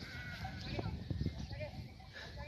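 Several sheep bleat nearby and farther off on a highland pasture, overlapping calls against a busy outdoor background with some voices mixed in.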